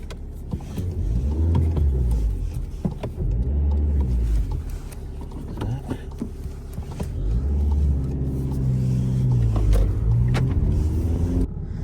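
SEAT Leon 1.6 TDI diesel hatchback driving on a road, heard from inside as a low rumbling engine that swells and eases through gear changes, with no talking.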